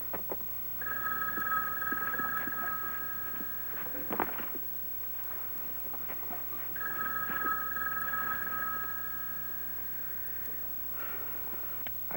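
An old telephone rings in two long electronic bursts separated by a pause, fairly close and clear over a steady low hum, with no voices.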